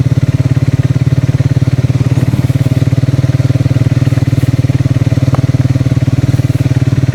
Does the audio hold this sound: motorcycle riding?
yes